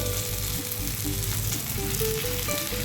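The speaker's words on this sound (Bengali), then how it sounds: "এইভাবে এটা ভাজা হবে" Close, continuous sizzling and crackling of a vegetarian dish frying in oil in a pan, with a low hum beneath and no voices.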